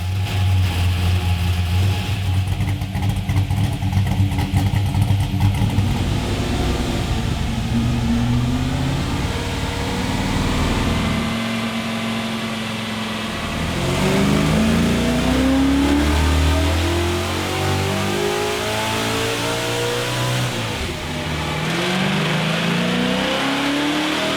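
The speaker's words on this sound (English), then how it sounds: "I reckon we should fire yours up, mate. I wouldn't mind hearing it." A powerful muscle car engine turns over and roars to life, then revs hard several times with rising and falling pitch, loud and close, no talking.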